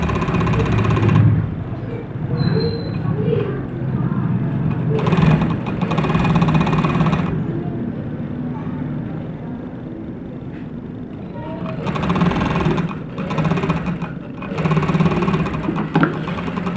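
A sewing machine stitches a frock's lining and fabric in a steady, close whir. Its motor hums continuously, with faster bursts of stitching and faint background voices.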